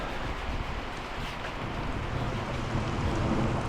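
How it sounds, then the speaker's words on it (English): Steady rain falls outside an open garage, a continuous broad hiss and patter that fills the space evenly, with no voices. "Hey, it's freaking raining out."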